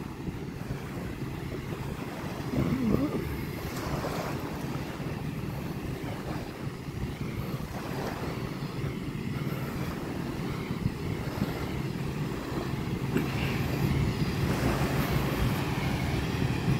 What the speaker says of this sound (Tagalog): Napakalinis na baybayin.